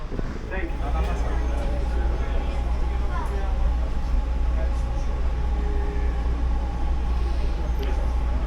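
The JFK AirTrain at New York's John F. Kennedy International Airport runs with a loud, steady low rumble and hum, with faint clicks and squeals over the drone and muffled talk in the background.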